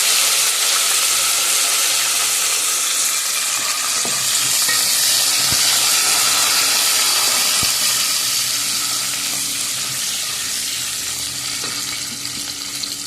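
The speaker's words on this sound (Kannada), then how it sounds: "ಮತ್ತು ಸ್ವಲ್ಪ ಬೆಳ್ಳುಳ್ಳಿ, ಒಂದು ಒಣಮೆಣಸು, ರಸಮ್ ಒಗ್ಗರಣೆ ಕೊಡೋದು" Rasam tempering of mustard seeds, garlic and a dried red chilli sizzles loudly and steadily in hot oil, a dense crackling hiss with a few sharp clinks of a utensil against the pan.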